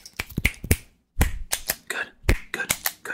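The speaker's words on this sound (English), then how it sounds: "When do I snap my fingers?" Crisp finger snaps close to the microphone in a personal-attention ASMR session, about a dozen sharp clicks in uneven bursts with a brief pause near the start.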